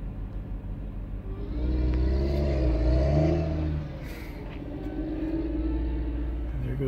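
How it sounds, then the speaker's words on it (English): A robotic tractor running a planting navigation script pulls away with a steady engine rumble that swells as it accelerates, eases off, then holds a lower hum, with no talk. "And there goes the tractor."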